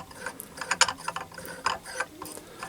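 Steel stud being screwed by hand into a box section, giving a series of quick metallic ratcheting clicks at an uneven pace, close up, with no speech.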